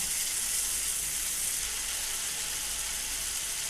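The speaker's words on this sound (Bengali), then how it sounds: "পেঁয়াজটা আমার লাল করে ভাজা হয়ে গেছে। এখন আমি টমাটোর আর কাজু আর আদা বাটা দিয়ে দিলাম।" Tomato, cashew and ginger paste hits fried onions in a hot pan, producing a loud, continuous hissing sizzle that holds steady throughout with no talking.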